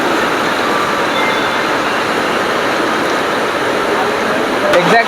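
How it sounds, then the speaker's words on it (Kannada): Inside the JanShatabdi Express as it pulls out of KSR Bengaluru City Junction, a steady rumble of rolling carriages fills the space alongside a rain-like hiss, with a brief sharper clatter near the end. "ಎಕ್ಸಾಕ್ಟ್ 5:15ಗೆ 5 ನಮ್ಮ ಟ್ರೈನ್ ಡಿಪಾರ್ಚರ್ ಆಯಿತು."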